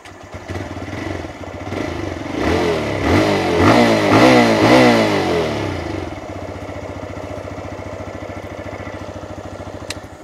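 A TVS Raider 125 motorcycle's exhaust note while riding, a steady single-cylinder thrum that swells through a few rising throttle pulls before settling to an even cruise, close and fairly loud with no talk.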